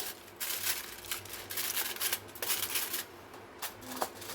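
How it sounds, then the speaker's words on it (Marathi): Aluminium foil is pressed and crinkled over a container of homemade cashew saffron ice cream: soft, close rustling and crackling in quick uneven bursts, with no talking. "फॉइल पेपरने कवर करते"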